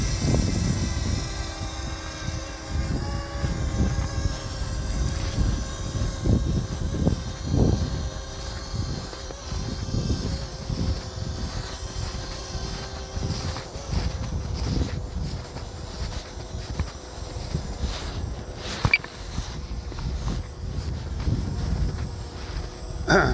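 A DJI Mavic Mini drone flies in strong wind, its rotor whine and wind buffeting on the microphone running continuously with gusty low rumble throughout.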